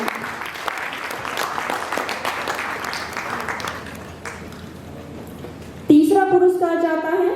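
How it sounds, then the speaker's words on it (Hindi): An audience at a philatelic stamp exhibition prize ceremony claps in sustained, fairly loud applause that thins out, then an announcer's amplified voice cuts in over the fading clapping. "आपकी तालियों की गड़गड़ाहट जारी रहनी चाहिए।"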